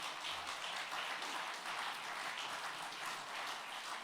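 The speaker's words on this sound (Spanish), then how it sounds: "denle un aplauso al Rey de Reyes" A church congregation applauds during a sermon, dense and steady clapping from a large crowd, fairly distant and even in level with no talk over it.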